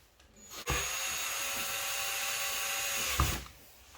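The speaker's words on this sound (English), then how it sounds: "Go back to the drill. I've got this on the slowest setting." An electric drill on its slowest setting whirs steadily for about three seconds, starting and stopping abruptly, with a faint click near the end.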